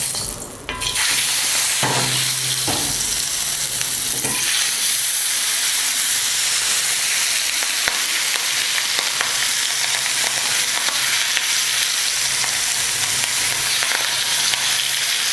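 Masala fish slides into hot oil with a sudden burst, then fries in a loud, dense, unbroken sizzle and hiss that holds steady, with faint stirring knocks underneath.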